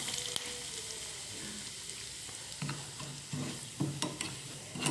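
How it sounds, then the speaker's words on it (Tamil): Curry leaves and other ingredients for idli podi frying in hot oil, a steady broadband sizzle with a few louder crackles and stirring scrapes toward the end, close and without talk. "இது நல்லா வதங்கணும். எண்ணெயில் கொஞ்சம் பொரியணும்."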